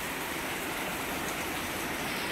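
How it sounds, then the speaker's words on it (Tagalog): Heavy morning rain pours down in a Singapore garden near a fish pond and potted plants, a dense, unbroken roar of falling water at steady loudness, with nobody talking. "Ayan, lakas ng ulan."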